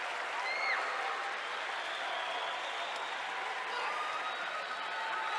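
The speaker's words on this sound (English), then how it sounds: "Give Pipkins a good round of applause" Basketball crowd at a 1993 Pennsylvania state championship between Pottstown and Valley Vikings applauds player Pipkins, steady sustained clapping from a large arena audience with a commentator talking faintly over it.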